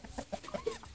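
Free-range pastured chickens cluck softly in a few short, quiet, nearby calls within a second.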